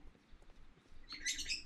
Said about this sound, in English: sorry about my birds.